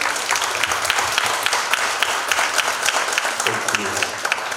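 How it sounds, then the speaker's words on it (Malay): An audience applauds warmly for Uncle Jeffrey at a meet-and-greet event, with a dense, steady wash of clapping from a crowd that carries on for several seconds while voices murmur underneath. "Boleh kita berikan tepukan gemuruh untuk Uncle Jeffrey?"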